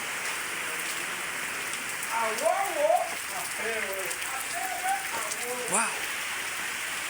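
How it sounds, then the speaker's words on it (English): Steady rain falls outside, a constant close patter and hiss that runs through the whole stretch while someone talks and exclaims over it. "the rain is just raining outside here."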